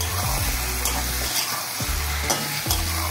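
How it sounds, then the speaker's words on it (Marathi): Stuffed brinjals sautéing in a pan for bharli vangi masala: steady sizzling broken by several sharp scraping stirs of a spatula against the pan, recurring every second or so, close up, with no voices. "याची वांगी आपण परतून अशी वाफत ठेवायची"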